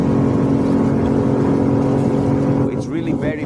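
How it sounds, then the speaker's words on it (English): A Beneteau Flyer 7 Sundeck boat with a Honda BF 200 outboard runs at full throttle on the water, giving a loud, steady, close engine drone that rises in pitch near the end as it accelerates. "let's also see how fast we want to go on the water by flooring the gas"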